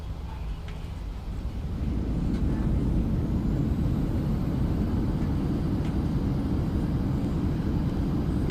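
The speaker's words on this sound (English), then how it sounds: "What a nice touchdown. Reverse thrust." A PMDG Boeing 737-8 in Microsoft Flight Simulator 2020 applies reverse thrust after touchdown. A steady loud engine roar builds and then holds as a dense, continuous rumble, with no voices.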